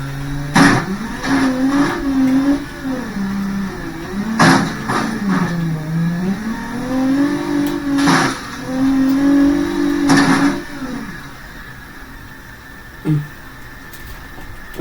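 A front-wheel-drive car in BeamNG Drive crosses rough terrain, its engine droning and rising and falling in pitch, with several sharp jolts and thumps over bumps before it settles to a quieter idle near the end.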